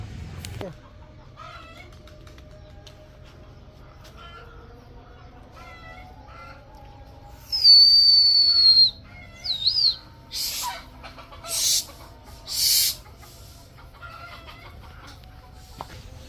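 Birds at a pigeon sale calling a few times in brief, close bursts over a quiet low hum, with no talk.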